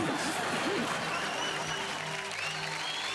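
A studio audience at a television quiz show applauds in a continuous, dense burst, with faint voices and a high tone running under the clapping.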